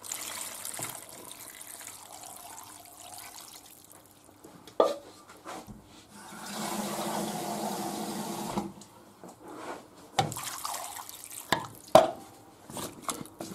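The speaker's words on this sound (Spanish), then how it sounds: "echamos el agua que lo cubra" Water is poured from a tap into a pot of potato and rabbit stew, a few seconds of steady splashing flow, with stirring and clinks of the pot before and after.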